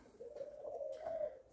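A Malaysian dove coos in a low, steady, mellow tone, one drawn-out call heard close and fairly faint, with no other voices.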